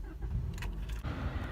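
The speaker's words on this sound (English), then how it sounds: "Let me just turn on the car here" A 2018 Toyota Camry SE is started from inside the cabin: a soft click and brief starter whir, then a quiet low idle settling in, faint and close.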